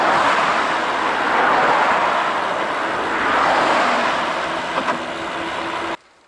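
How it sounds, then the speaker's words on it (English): Steady, loud roar of road traffic on a river bridge in Provence, with vehicles swelling past close by and a continuous wash of tyre and engine noise that cuts off abruptly at the end. "I'm expecting a lot of traffic on this bridge here."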